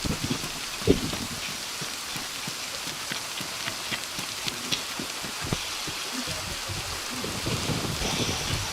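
Steady rain in DayZ at night, a dense even patter with scattered drop ticks and occasional soft thumps, continuous and moderately loud with no talking.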